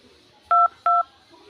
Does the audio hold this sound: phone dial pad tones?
yes